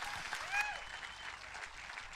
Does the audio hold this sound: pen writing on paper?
no